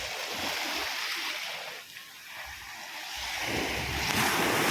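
Surf washes steadily onto a shallow resort beach with clear water, a broad continuous rush that dips briefly and then swells louder again, with wind buffeting the microphone.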